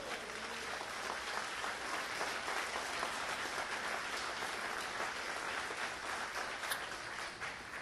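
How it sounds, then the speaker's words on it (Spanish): A church congregation applauds during an apostolic and prophetic service, a continuous, even roar of many people clapping, moderately loud and without speech. "Pues denle un aplauso al Señor."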